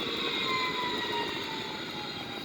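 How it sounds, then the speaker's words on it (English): A Sukhoi Su-30MK2 twin-jet fighter has its left engine switched off, leaving only one engine running. A steady, whining jet tone is heard alone, and its pitch sags gradually over a few seconds as the engine winds down. "You will see the left engine is going off."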